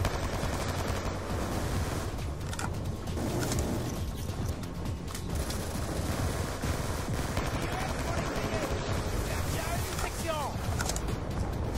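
Automated turret gunfire in Call of Duty Black Ops 2, with rapid bursts of shots and mechanical clatter running continuously over a busy game soundscape, with a French voice speaking briefly.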